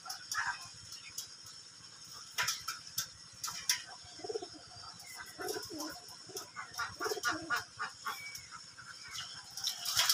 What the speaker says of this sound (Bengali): সাদা কবুতরটা নামার চেষ্টা করে কিন্তু ভয় পায়